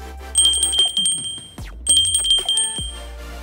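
A bright, ringing bicycle-style bell sounds in two separate bursts as a subscribe notification effect, with sustained high metallic tones over a low background, loud and close.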